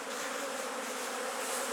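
Honey bees buzzing around a hive super just removed from the hive on a warm day, a dense, continuous swarm hum that stays even and close throughout.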